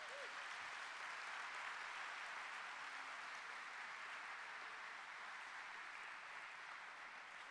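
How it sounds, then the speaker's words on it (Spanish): A church congregation applauds in a steady, even wash of clapping that continues unbroken throughout, with no voices over it and fairly low overall loudness. "Le damos un aplauso al Rey."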